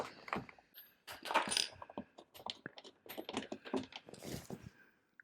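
A 10 mm nut being removed while fitting mudflaps on a 2026 Tesla Model Y Juniper, heard as close, irregular metallic clicks and ratcheting taps that come in quick clusters with short pauses.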